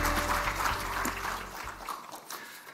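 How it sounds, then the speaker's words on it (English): Audience applause at an international central bank conference welcoming a keynote speaker, a dense spread of clapping that holds steady and then slowly tapers off, heard alone. "please welcome him with a big round of applause"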